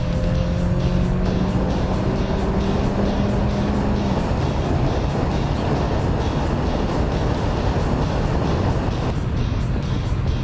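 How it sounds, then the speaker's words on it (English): A Buick Encore accelerates at wide open throttle during a road test, its engine a loud, steady drone that rises over about ten seconds with continuous road and wind noise, no talk. "I'm going to press the throttle all the way to the floor to wide open"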